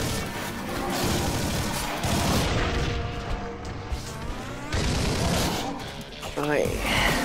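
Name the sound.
gunfire shooting at a boss in video game Collapse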